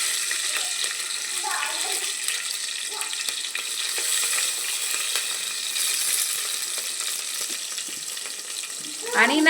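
Mustard seeds, cumin and green chili sizzle in hot oil in a pot, a steady close hiss with faint popping, ending in a brief louder burst of sizzle.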